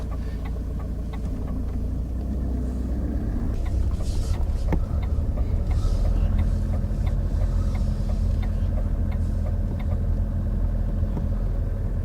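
Car pulling away from a stop during a driving lesson, its engine rumbling steadily and close as it builds speed, with road noise holding throughout and no talk.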